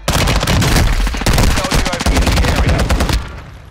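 Rapid automatic gunfire in a Call of Duty match, loud and close, sustained bursts of shots rattling almost continuously before tapering off at the end.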